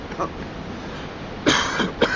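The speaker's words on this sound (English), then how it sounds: "And I cough" A couple of short, rough coughs break through a quiet background, the second pair close together near the end.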